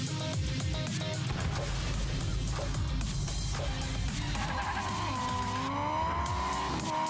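A Hot Wheels toy car drifts through a turn in the Hot Wheels Unleashed racing game, with a loud continuous engine roar and drawn-out tire squeals toward the end.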